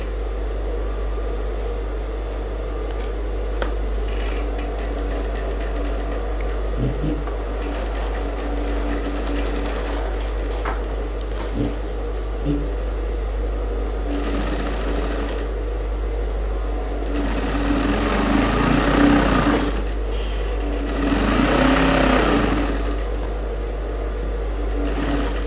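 A sewing machine stitches fabric for a women's suit with a steady, close mechanical whir that runs continuously, speeding up in louder stretches near the end, with a low hum beneath.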